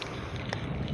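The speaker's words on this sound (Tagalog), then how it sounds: "Medyo mahangin eh." Steady wind buffeting a small fishing boat on open water, a constant low rumble across the full second with no other distinct sounds.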